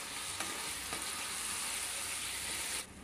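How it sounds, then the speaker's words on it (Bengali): Fried potatoes are stir-fried in a pan for a banana flower curry, giving a loud, continuous close sizzle with a few faint scrapes of stirring, with no talking. "এবার আলুটা দিয়েও আরও 2 মিনিট মতো খুব ভালো করে কষিয়ে নিতে হবে।"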